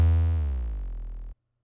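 A single soft 808 bass note from a hip-hop beat, a deep sustained tone with gently gliding harmonics that fades slowly and then cuts off abruptly.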